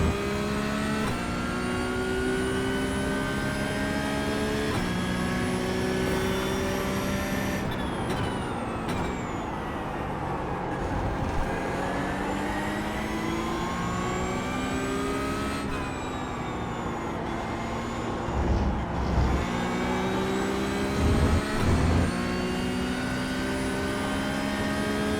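A Porsche Cup 992.1 race car engine in iRacing laps Okayama, its loud, steady engine note climbing through the gears with sharp drops at shifts and braking, rising again on acceleration, with no voices.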